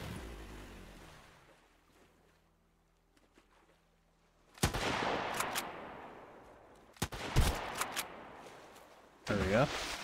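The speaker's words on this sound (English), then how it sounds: "Let's test out our rifle a little bit." Rifle shots in the survival game Sunkenland on an island. After a quiet stretch come three loud, separate blasts, each trailing off in a short echoing tail.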